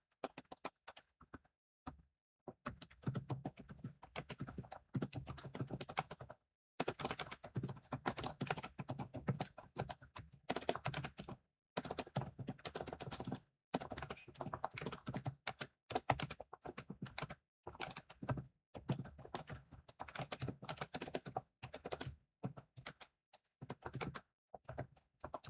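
Rapid typing on a computer keyboard, dense bursts of clicking keystrokes broken by short pauses, close and moderately loud over about twenty-five seconds with no talking.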